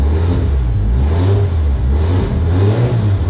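A turbocharged drift car engine, prepared for a D1NZ round, revs loudly and close, swelling and dropping in repeated throttle blips over a deep, continuous rumble, with no talk.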